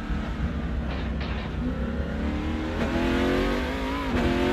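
A race car engine from the Assetto Corsa racing game on the Nordschleife circuit drones loudly and steadily, climbing gradually in pitch as it accelerates, with brief tire noise mixed in.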